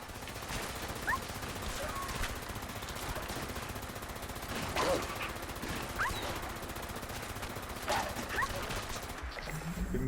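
Automated turrets in Fallout 76 fire continuous rattling gunfire at attacking dogs, with sharper shots standing out at intervals over a dense, moderately loud background.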